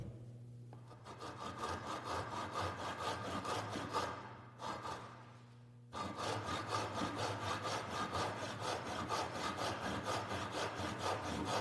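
A saw cuts into wood pieces for a cutting board, making them two-thirds deep on one side: close, rhythmic rasping strokes with a brief pause midway before steady sawing resumes.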